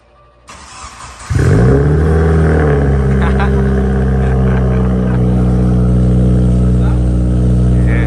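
A Subaru WRX with a catless J-pipe cranks and fires on a cold start, the starter whirring before the engine catches with a loud burst and settles into a deep, steady, raspy idle close to the mic.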